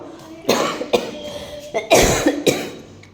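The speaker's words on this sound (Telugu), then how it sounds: "అబ్బా దగ్గు వచ్చేస్తుంది" A series of harsh coughs, close and loud, coming in bursts with short pauses between them.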